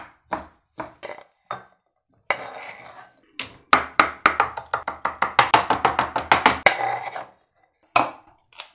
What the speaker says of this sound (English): Shred the sausage.